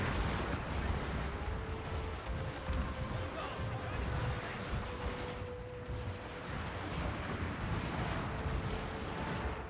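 Gatling guns fire in the Fall of the Samurai video game as Satsuma forces battle, a dense and continuous clatter of shots with crashing impacts running through the whole stretch.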